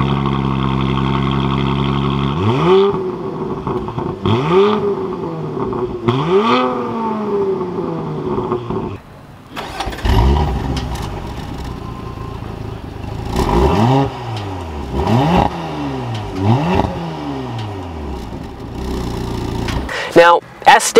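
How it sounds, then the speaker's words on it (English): A 2021 Porsche Macan GTS sport exhaust revs repeatedly, each blip climbing then falling, with a loud raspy exhaust note and brief pauses between bursts; a few pops near the end. "You can open and close them to make the exhaust sound louder, and it definitely sounds louder."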